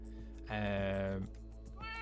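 A Minecraft cat in a Cobblemon modpack lets out one loud, drawn-out meow at close range, with a shorter second meow starting right at the end and faint game ambience around it.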